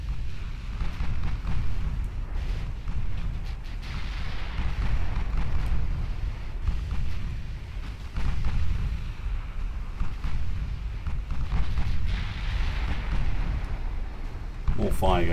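A naval artillery barrage from a video game pounds a ship with a dense, continuous low rumble of explosions and booms, layered with wind-like roar and a voice talking throughout.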